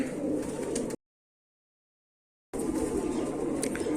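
Pigeons coo steadily at a Pakistani pigeon-keeping loft, a dense continuous murmur of many birds close by, broken by a short gap of silence before the cooing resumes.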